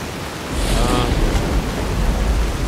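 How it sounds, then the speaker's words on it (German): Rain falls in the video game Fallout: New Vegas, a dense hissing downpour that swells in after a quieter start and holds steady and loud, with no speech over it. "Oh, schön Regen, Leute."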